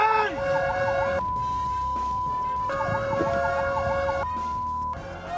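A fire truck on a road blares its siren in alternating wailing and steady tones, with horn blasts aimed at a motorcycle rider blocking its way, loud and close throughout.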